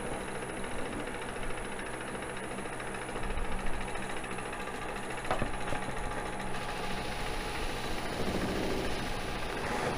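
Beall buffing wheel spinning at about 800 RPM, a steady continuous motor whir and hum with a faint high whine, even and unbroken throughout with no talk.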